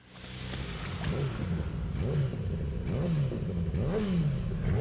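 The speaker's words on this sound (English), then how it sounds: "Kuze brought a motorcycle to the sewer and just slams Kiryu." A motorcycle engine revs in a sewer during a Yakuza 0 cutscene, with repeated rising and falling throttle sweeps, loud and close, over a steady rumbling background with no talk.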